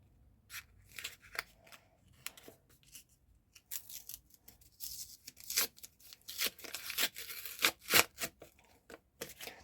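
Close crinkly tearing of a small paper sticker packet in short irregular rips, with small rustles between, growing louder and busier near the end.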